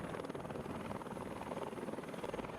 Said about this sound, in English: Lauren Bruner and Don Stratton also took in one last aerial view of the Arizona and its memorial with a helicopter tour around Pearl Harbor.